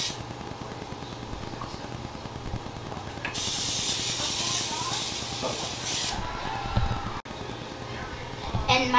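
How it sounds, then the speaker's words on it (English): A steady hiss of coconut oil spray onto a cake pan runs for about three seconds, close and loud, over a low background hum. "now we're gonna spray the pan with some coconut oil"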